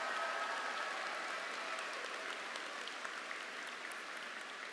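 A graduation audience at a high school ceremony applauds steadily, a dense wash of many hands clapping throughout at a moderate distance, slowly easing in intensity toward the end with no voices on top.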